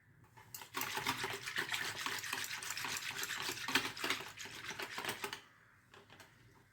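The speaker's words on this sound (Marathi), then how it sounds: "इथे मी 1 ग्लास पाणी घालते" A glass of water pours steadily into a bowl of yogurt to make buttermilk for kadhi, a continuous splashing rush lasting about five seconds before it stops abruptly.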